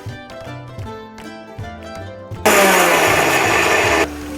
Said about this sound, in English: now let's grind the roasted ingredients